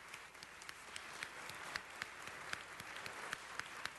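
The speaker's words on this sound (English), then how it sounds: "And everybody, let's give our future a round of applause." Applause at a city council meeting, a group of people clapping steadily for a few seconds, moderately distant with sharper individual claps standing out.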